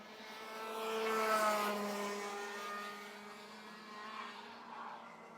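Rotax Heavy class racing karts at Warwick, their buzzing two-stroke engines swelling as they pass close, then fading and shifting pitch under braking, with a second engine note trailing behind.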